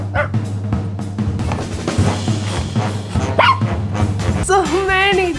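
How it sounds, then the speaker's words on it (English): Several dogs from a household of seven bark and yip in overlapping bursts close by, with a whimpering, whining tone near the end, mixed with voices and household noise. "So many doggies everywhere."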